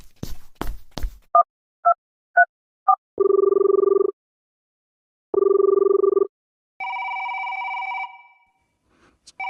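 A landline telephone: a few short dial beeps, then two long electronic ring bursts separated by silence, followed by a higher steady tone, all clear and close with no talk.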